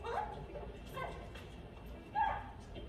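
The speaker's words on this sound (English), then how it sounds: "My cat howling, he mad." An old cat howls indoors in a few short, drawn-out wails, fairly faint and spaced apart.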